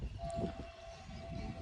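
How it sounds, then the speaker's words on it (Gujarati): A train runs somewhere behind a rooftop terrace in the morning, heard as a quiet, steady distant rumble with a faint, sustained horn-like tone throughout. "પાછળ ટ્રેનનો અવાજ આવે છે."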